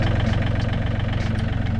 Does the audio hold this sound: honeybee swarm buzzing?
no